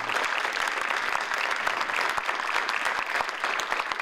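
Applause from those gathered at a county legislature session, a steady, moderately loud ripple of many hands clapping with sharp individual claps standing out, continuing evenly without talk.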